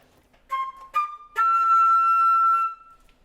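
A flute plays three rising notes starting from C, two short tones followed by a longer held one, clear and solo.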